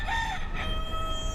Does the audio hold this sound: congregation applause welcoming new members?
no